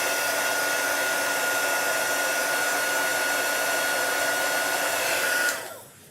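A hair dryer blows with a steady, loud, close whine while drying chalk paste on a transfer, then switches off and winds down near the end; there is no talk.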